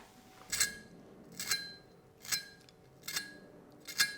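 A knife brushed over crispy fried sweet and sour chicken balls, making five sharp, crackly scrapes spaced roughly a second apart, close and clear against a quiet kitchen background.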